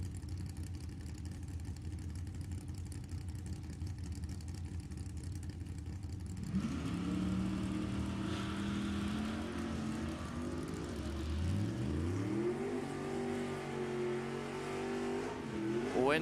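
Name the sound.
drag race launch of an 83 Camaro and a 71 Ferrari Daytona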